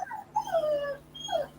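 A dog gives short, high whimpers at close range: one drawn-out whine followed by a briefer one, in a quiet room.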